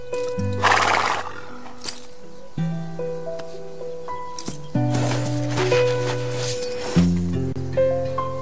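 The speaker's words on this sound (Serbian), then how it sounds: "Ti si dobar konj." A horse on a ranch whinnies several times, loud and close, with shifting hoof clip-clops and movement between the calls.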